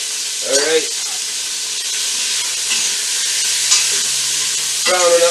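Beef seasoned with salt and pepper sizzles steadily as it browns in a pan for an English beef and ale stew, a continuous close frying hiss with brief clatters of stirring and no talk.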